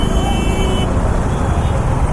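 Jammed auto rickshaws and other traffic crowd a busy market crossroads on Dhanteras, making a steady, loud wash of engine rumble and road noise right up close, with no clear break.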